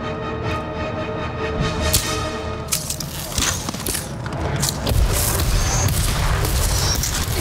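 A bridge blows up in the video game Ghost of Tsushima: a heavy boom bursts in a few seconds in, followed by crashing, rumbling debris and chaotic noise that continues to the end.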